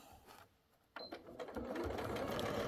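A sewing machine stitches through a couched fabric bag, starting after a brief pause and then running in a steady, close, continuous whir.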